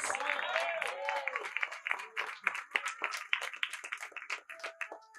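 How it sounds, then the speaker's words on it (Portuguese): Church congregation clapping for God during a Portuguese-language sermon, a dense patter of hand claps mixed with voices and shouts, loud and close, thinning toward the end. "você pode aplaudir o Eterno bem forte?"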